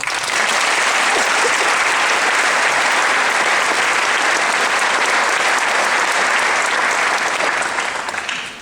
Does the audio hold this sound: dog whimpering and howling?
no